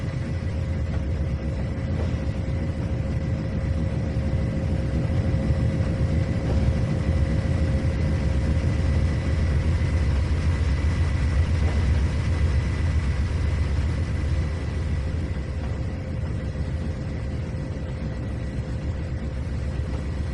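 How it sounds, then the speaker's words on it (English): Locomotive engine idling in the Trainz 2019 train simulator game, a steady low diesel rumble with a constant hum, continuous and unchanging throughout with no talk. "Engine 7827 coming right at you."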